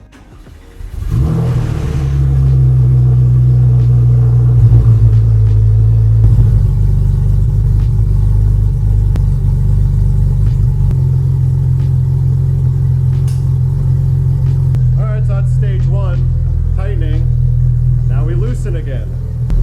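A car engine is cranked over and catches, then idles with a steady low rumble close by; voices speak over it near the end.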